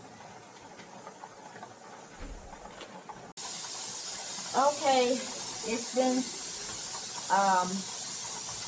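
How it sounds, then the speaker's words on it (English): A pressure canner loaded with beef stew vents a steady, loud hiss of steam that starts abruptly partway through and continues evenly, with a person talking over it. "now that there's the steady flow of steam, I'm going to allow this to steam for 10 minutes"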